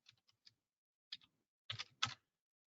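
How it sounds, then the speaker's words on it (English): Computer keyboard typing a search into a document control system, sparse soft key taps followed by a couple of louder clustered strokes, close and quiet with no talk. "So if I type in"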